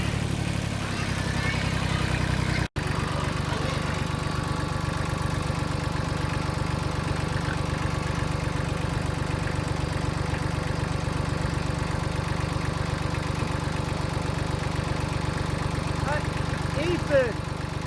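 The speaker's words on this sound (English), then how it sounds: "I thought my tractor was making a noise" A small tractor engine idles steadily close by, a constant low chugging hum that carries on unchanged after a brief dropout near the start, with no talk over it.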